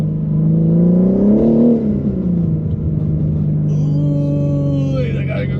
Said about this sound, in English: I like how much turbo noise you hear when the exhaust is in the quiet mode